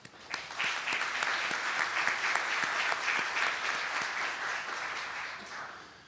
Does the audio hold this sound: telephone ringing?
no